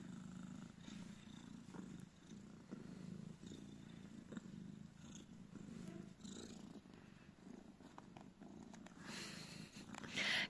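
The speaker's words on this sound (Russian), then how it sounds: "Мурлычет, так мурлычет." A young black kitten purrs steadily and softly close by, a low continuous rumble with gentle rhythmic pulses from its breathing in a quiet indoor room.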